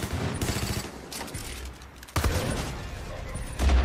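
Rapid bursts of gunfire from the video game Far Cry 5, loud and dense, with repeated volleys and a sharp jump in intensity partway through.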